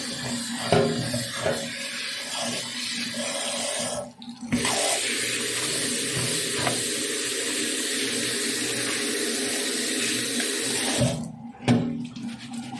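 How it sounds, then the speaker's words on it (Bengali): Flattened rice (poha) is rinsed under a running kitchen tap, giving a continuous close splashing and rushing of water with a few brief pauses and sloshing handling sounds. "সুন্দরভাবে একটু জলে ধুয়ে নেবো"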